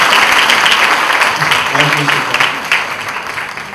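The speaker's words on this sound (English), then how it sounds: "Let's give a big round of applause to her." Audience applause at a fashion design student seminar, a dense steady wash of clapping that fills the room, with a host's voice briefly speaking over it.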